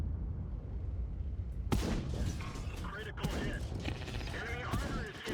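Tank cannon fire in World of Tanks, including shots glancing off the lower plate of an E3 heavy tank, comes as sharp booming blasts and rattling impacts over a low rumble, with brief voices under the action.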